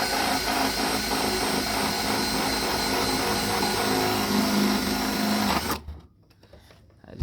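A power grinder works steadily on a broken Mercedes W211 rear bumper, a continuous loud whining drone that cuts off abruptly near the end, leaving near silence.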